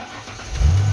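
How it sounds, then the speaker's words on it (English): A 1996 Ford F150 with a newly replaced starter cranks and catches, a brief close mechanical whir that jumps into a loud low engine roar within a second. "See if it'll start again."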